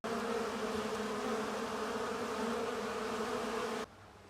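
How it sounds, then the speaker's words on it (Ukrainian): A dense, steady buzz of many bees flying out of a log hive close by, droning evenly for several seconds before cutting off abruptly. "Ну подивіться, яка кількість бджоли вилітає, не літає."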